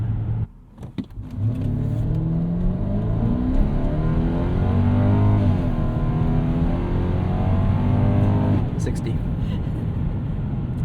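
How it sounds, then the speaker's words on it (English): A 1998 Lexus GS 400 V8 pulls hard, its engine note climbing and falling through a gear change at steady loudness from inside the cabin, with someone talking over it. "every time I do a good acceleration like that, I'm like, dang"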